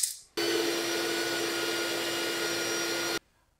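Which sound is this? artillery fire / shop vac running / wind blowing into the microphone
shop vac running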